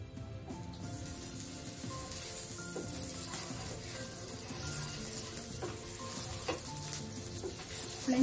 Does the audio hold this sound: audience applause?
no